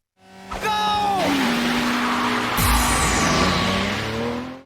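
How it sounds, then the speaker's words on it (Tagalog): Two race cars charge into fog at the start of a downhill battle, with loud engines revving and shifting, a sharp tire squeal and continuous close roaring from start to finish. "Nang magsimula ang downhill race, mabilis na pumasok ang dalawang sasakyan sa fog"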